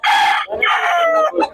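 A young rooster, a stag, gives one loud, close crow in a few drawn-out segments, alone and without talk.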